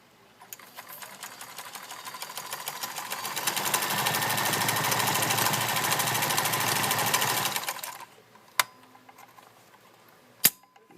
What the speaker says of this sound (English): And that's how she sews.